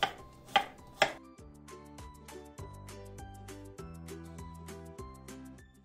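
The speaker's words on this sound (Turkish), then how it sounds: "Şimdi sarımsaklarımızı doğrayacağım" A knife chops garlic rapidly on a cutting board in a steady, close rhythm, a few louder knocks at the start.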